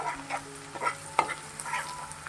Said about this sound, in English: I've added butter more in order to saute garlic and onion also